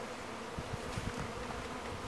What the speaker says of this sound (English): See how the bees are coming up? They want to drink right away.